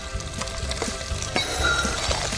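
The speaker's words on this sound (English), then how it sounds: "So the 2 chorizos into that hot frying pan." Steady crackling sizzle of two chorizo sausages frying in a hot pan, close and continuous with small pops throughout.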